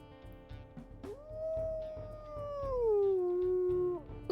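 A wolf in the WolfQuest video game gives a high-pitched secondary howl, a single sustained tonal wail that rises, holds and slowly glides downward over about three seconds, clear and fairly close with faint background sounds beneath.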